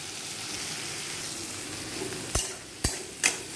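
Onions frying in a pan for a quick Telugu-style curry give a steady soft sizzle, broken near the end by three sharp scrapes or knocks of a spoon stirring through them.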